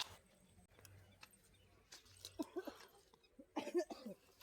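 A few short, dry coughs sound in two clusters near the end, fairly close, against a quiet background with faint noises.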